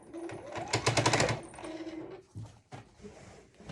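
A sewing machine stitching a quilt, running in short bursts of rapid needle clatter, loudest near the start, then stopping and restarting in brief spurts, close and clear.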